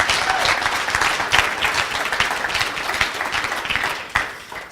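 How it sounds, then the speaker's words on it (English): A full room claps steadily and loudly, with dense applause continuing throughout and a few louder claps standing out. "I think you should give yourself a round of applause for that"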